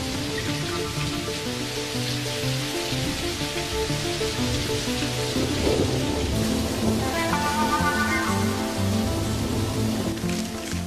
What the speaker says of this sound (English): A rainstorm just makes us wet.